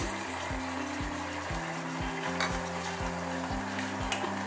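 Beef korma with coriander, cumin, red chilli powder, ginger and salt sizzling steadily in a pot of meat, a dense continuous fry hiss with faint stirring scrapes underneath and a low rhythmic hum.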